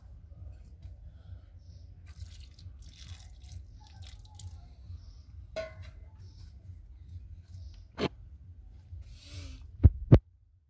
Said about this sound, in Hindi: नीचे से पानी निकल जा रहा है